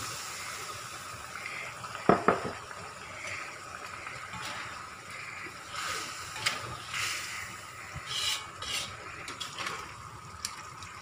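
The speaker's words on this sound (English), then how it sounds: "Let it boil for a while." A pot of salted ikan kurau fish sambal simmers with a soft, steady bubbling hiss. A couple of sharp clinks of a utensil against the pot stand out early, followed by fainter stirring sounds.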